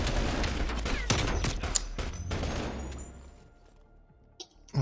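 Rapid gunfire crackles in dense bursts during a Call of Duty: Black Ops Cold War match, loud at first and then thinning to scattered faint shots.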